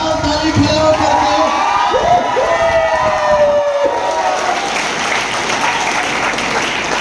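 A hall full of children claps and cheers for a former Bhagalpur mayor after a motivational speech, loud sustained applause mixed with whoops and high shouts that swell, then settle into steady clapping.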